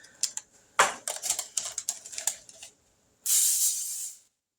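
A short burst of hissing spray on a sheet of wax paper in a kitchen, preceded by a series of sharp clicks and taps from handling; the spray itself is a close, steady hiss lasting about a second before stopping.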